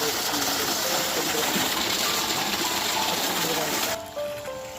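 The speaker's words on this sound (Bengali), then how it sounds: "সাবমার্সে পানি এভাবে নামছে পানি" Water from a submersible pump pipe gushes steadily into a fish pond on a small cattle farm, a loud continuous rushing that drops away near the end while a voice speaks over it.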